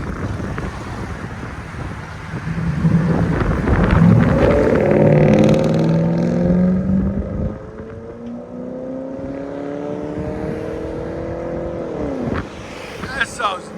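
A 2006 Mercury Grand Marquis 4.6L V8 with a custom H-pipe, true dual exhaust and Marauder tips revs up into a deep, rising exhaust roar, holds, then drops back toward idle, with wind buffeting the microphone.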